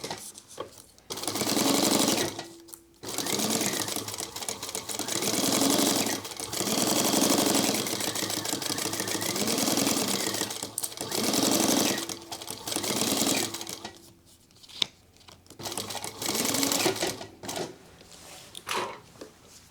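A sewing machine stitches a sling crossbody bag in long, loud, steady runs broken by short pauses, with no talking.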